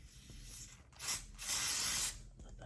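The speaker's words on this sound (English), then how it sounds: "Then I'm going to spray her with my lace bond glue again." Lace bond adhesive spray applied to a lace wig during installation, two close hissing aerosol bursts, a short one followed by a longer sustained spray, with no talking.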